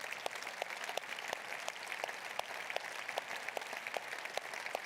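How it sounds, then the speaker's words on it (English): A large audience applauds city employees standing for recognition at a State of the City address in Nampa, a steady wash of many clapping hands with sharper individual claps standing out, moderately loud and without speech. "I'd like to recognize and give you a round of applause"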